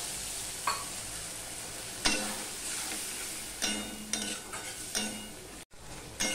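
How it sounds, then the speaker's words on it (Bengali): Masala of turmeric and Kashmiri chili powder loosened with a splash of water sizzles steadily in a pan for a hilsa fish dish, with several sharp spoon scrapes and stirring knocks over a constant frying hiss. "মশলাটা কষানোর জন্য একটু জল দিয়ে দিলাম"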